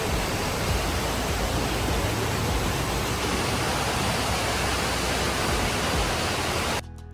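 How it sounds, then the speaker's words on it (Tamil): A small waterfall pours between mountains in Switzerland's Aareschlucht gorge, a constant loud rushing of water that runs unbroken for about seven seconds before dropping away abruptly. "மலைங்களுக்கு நடுவில் இருந்து ஒரு சின்னதாக ஒரு அருவி மாதிரி கொட்டிட்டு இருந்தது"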